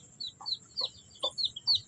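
A young chick gives quick, faint, high peeps and soft clucks while it is being lifted out. Short chirps come in an uneven run close by, with no talking.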